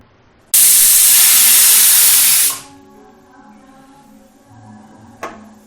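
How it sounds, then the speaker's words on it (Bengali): Pressure cooker whistle on a pot of moong dal with peas, one loud, sharp hiss of escaping steam lasting about two seconds, then fading into quiet kitchen background with a brief knock near the end. "তিনটে সিটি দিয়ে গ্যাস বন্ধ করলাম।"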